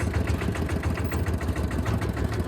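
A car engine runs as the clutch is slowly released and the car pulls forward, a loud, steady close-up engine drone with a rapid pulsing rhythm throughout.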